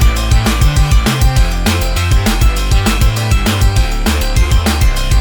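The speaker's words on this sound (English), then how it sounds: "the clipper is now only clipping the sum of the drums and the instrumental" Drums and an instrumental bed summed through a clipper, a loud dense mix with punchy kicks and a forward snare driving a steady beat, no talking.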